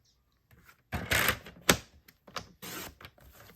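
Cardstock sheet being trimmed along score lines with a paper cutter, giving a few close, crisp slicing and snapping sounds in short bursts with brief pauses between them, no talking.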